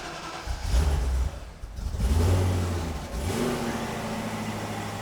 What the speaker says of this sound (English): Ready for the cold start.